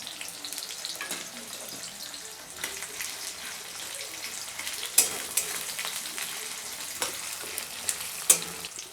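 Chopped onion sizzles in hot oil with garam masala, two cardamom pods, cinnamon and cloves: a steady frying hiss broken by a few sharp utensil clinks and stirring scrapes.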